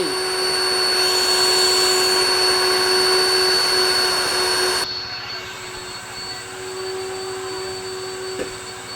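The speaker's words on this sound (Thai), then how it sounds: "ช่างก็จัดการดูดฝุ่นทำความสะอาดให้" A vacuum cleaner runs steadily inside a Honda Jazz hatchback after its air-conditioning evaporator was refitted, a loud broadband whine with a constant high tone that drops in level and pitch midway, as if the nozzle moves or the suction changes.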